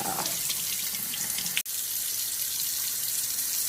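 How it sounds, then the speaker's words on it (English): Small potatoes rinsed in their bag under a running kitchen tap, a steady close hiss of flowing water with a brief cutoff midway before the stream resumes. "you can almost certainly rinse them off in the bag"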